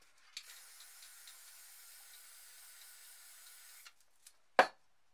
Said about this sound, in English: we'll just get the white and spray a bit onto this card here.